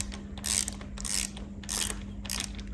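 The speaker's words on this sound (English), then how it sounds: "No, we need the ratchet." A hand ratchet loosens a spark plug on a Ducati Monster S2R 1000 motorcycle, making four close, crisp bursts of rapid clicking in an even back-and-forth rhythm, with no voices.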